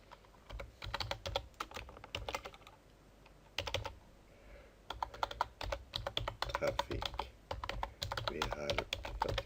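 Rapid bursts of clicking on a computer keyboard, close and crisp, in uneven runs with brief pauses between them.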